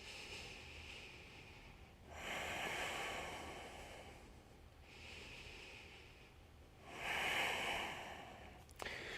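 Deep, slow breaths during a yoga flow, broad airy swells rising and falling in an even rhythm, close and clear, with quieter pauses between each long inhale and exhale and no talking.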